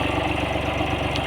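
A 22 HP Mitsubishi Shakti tractor engine driving a single-connection oil-type Doctor pump with no load, running at a steady idle with a close, even low thumping pulse throughout.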